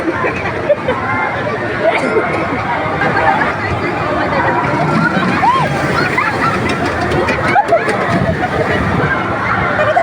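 Continuous sloshing and splashing of sea water under a steady babble of many voices, loud and close throughout.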